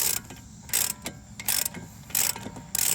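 A ratchet wrench tightening a bolt on a Chevy Cruze driver's side CV axle, with rapid clicking bursts in repeated back-and-forth strokes, close and loud with no voices.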